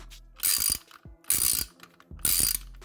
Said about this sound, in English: Now you can remove the bolt at the top, which has the same size head.